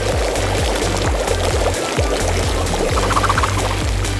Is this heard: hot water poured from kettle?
yes